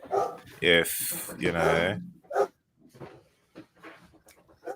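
A dog barks in the background during an online office-hours call, a few loud barks followed by softer yips, with a person speaking briefly.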